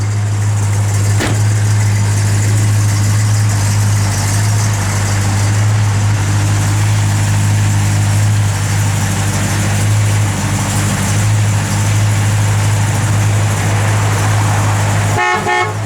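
A 1969 Plymouth GTX engine runs at a steady, loud idle with a deep, even rumble throughout, and a brief sharp tick near the end.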